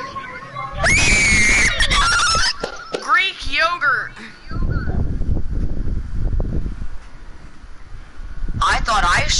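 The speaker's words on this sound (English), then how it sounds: "screamed awfully loud" A person lets out a loud, piercing scream during online gaming party chat, followed by a second shorter outburst, with voices and chatter throughout.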